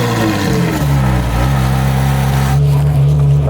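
A Ferrari project car engine idling steadily and loud close by, a constant low drone with a slight change in pitch near the end.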